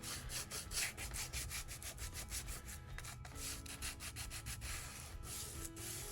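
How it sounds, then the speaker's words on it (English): A plastic book spine is lightly sanded in quick, rhythmic back-and-forth strokes that make a close, scratchy rubbing sound with no talk. "I'm just going to lightly sand over this."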